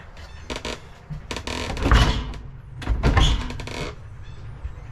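The cabin door of a 28-foot sailboat is handled, giving creaks and clunks in several uneven bursts, two louder knocks near the middle, close by with no talking.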